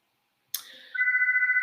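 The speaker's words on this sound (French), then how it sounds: "Excusez-moi pour le téléphone." A telephone starts ringing during a business training talk: a sharp onset, then a steady, warbling electronic ring that sounds continuously and close, with no talking over it.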